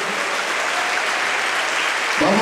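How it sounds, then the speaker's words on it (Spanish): A church congregation applauds steadily and loudly throughout, a dense wash of clapping that rises slightly at the very end as a voice begins to emerge. "Démosles un fuerte aplauso a nuestro Señor Jesucristo."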